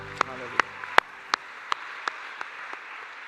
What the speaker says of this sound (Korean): 하나님 영광의 박수 올리겠습니다